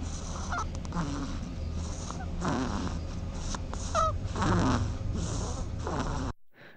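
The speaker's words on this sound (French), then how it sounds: "la régie est joueuse et nous a envoyé un vrai bandicoot" A real bandicoot call played into a studio, short snorting, honking grunts and snuffles repeated over a low steady background hum, close and fairly loud, ending abruptly.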